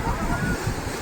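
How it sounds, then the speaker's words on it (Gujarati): Sea waves washing in at Tithal beach, Gujarat, a continuous broad surf rush with wind noise, brief and fairly loud. "દરિયામાં જો કેટલી મસ્ત મજાની વેળ આવે"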